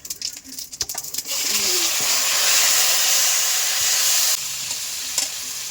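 Taro pieces hit hot oil with whole cumin seeds and a dried chili: a brief clatter, then a loud, steady, close sizzle that eases slightly near the end.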